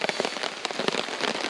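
Welsh rain falls steadily outdoors, a dense close pattering of drops on a surface, continuous and moderately loud across a short stretch.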